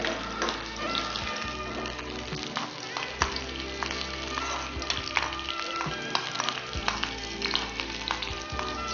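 Oil sizzles steadily as small pieces of shallot and ginger fry in a pan, with occasional taps and stirring clinks over the continuous crackle.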